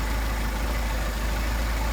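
A Mercedes 190SL engine with Solex 44PHH carburetors idles roughly during carburetor adjustment, a dense continuous rumble that stumbles unevenly, loud and close with no voices.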